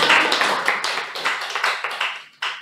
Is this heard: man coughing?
no